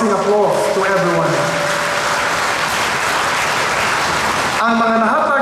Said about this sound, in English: Let us give a rousing applause to everyone.